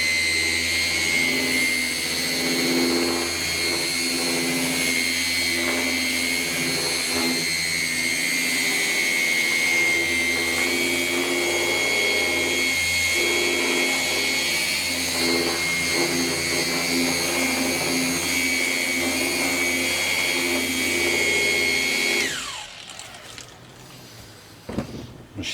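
A Flex PXE 80 10.8 cordless polisher runs steadily on edge work with a high whining motor tone and a constant drone, then winds down and stops near the end.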